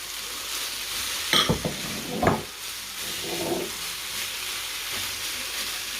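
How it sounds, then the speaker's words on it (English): Chopped vegetables, carrot and red pepper fry together in a pan for a chicken peanut butter stew, a steady sizzle broken by a few sharp stirring clatters, close and without talk. "And you're going to fry it all together."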